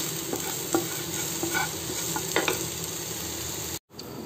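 Mixed vegetables shallow frying in a pan for a North Indian sabzi, a steady sizzle with several scraping stirs of a spatula, close and alone, with no talk.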